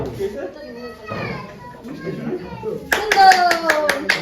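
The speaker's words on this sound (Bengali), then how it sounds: "তালিয়া।" A group claps hands at a birthday surprise in a fast burst of sharp claps near the end, after children and adults chatter excitedly.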